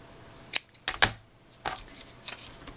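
Scissors snip the ends off a paper Valentine's card with a heart and scallop banner, giving a few short, crisp, close cuts spread over about two seconds in a quiet room.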